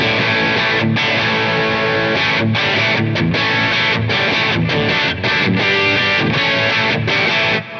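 Overdriven electric guitar chords through a Klon Centaur pedal with gain all the way down, mild, warm distortion, played steadily and loud, with short breaks between strummed phrases.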